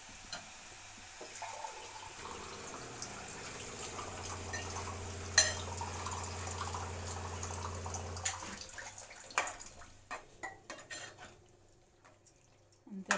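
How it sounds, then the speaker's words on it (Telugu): Water pours steadily into a pan of brinjal, fenugreek leaf and tomato curry for several seconds, then splashes and bubbles unevenly as it settles. "నేను మాత్రం కొంచెం వాటర్ వేస్తాను"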